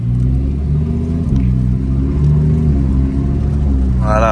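A Lamborghini Huracan STO accelerates gently with a deep, close engine rumble that rises and settles, while a person talks over it.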